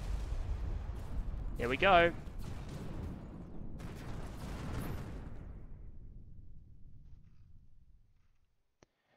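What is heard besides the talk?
missile impacts on warships in video game Terra Invicta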